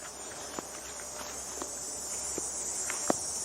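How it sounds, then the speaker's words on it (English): A steady high-pitched insect buzz of cicadas fills the air, with a few soft footsteps crunching close by underneath. "And yes, the cicadas are out."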